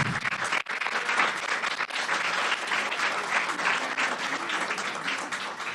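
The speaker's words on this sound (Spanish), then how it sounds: "Les brindamos un fuerte aplauso" A roomful of people at a group anniversary meeting bursts into dense, sustained applause that continues steadily throughout.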